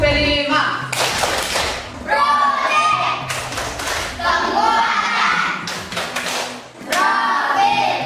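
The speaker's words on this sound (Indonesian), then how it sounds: "Tepuk prima." Children perform a rhythmic group clapping routine in a classroom, loud bursts of clapped patterns alternating with short gaps where children's voices chant, the sequence repeating several times close by.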